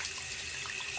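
A bathroom sink tap runs cold water after a cartridge replacement, giving a steady, close, continuous hiss of flowing water with no talk.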